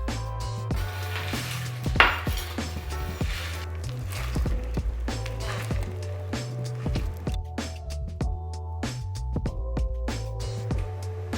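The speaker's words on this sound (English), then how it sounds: "So I'm just chopping them really roughly." A knife roughly chops pistachios on a cutting board, giving a steady run of light, soft thuds and taps at close range. No one talks.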